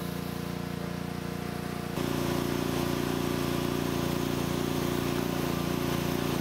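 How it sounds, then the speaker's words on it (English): Water fills an air compressor tank during a hydrostatic pressure test while displaced air escapes, a steady rushing flow that abruptly grows louder and fuller partway through, with a constant motor hum underneath. "Water should be going in. I can hear the air coming out"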